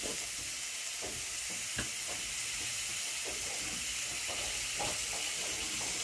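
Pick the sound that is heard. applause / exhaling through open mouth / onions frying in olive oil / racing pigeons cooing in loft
onions frying in olive oil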